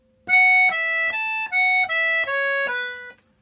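A short accordion melody of about eight sustained notes, played close and clearly over roughly three seconds, no voices.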